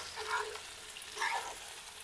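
Rice and chicken for a chicken podi biryani are stirred together in a hot pan: a steady close frying sizzle with two louder scraping strokes of the spoon.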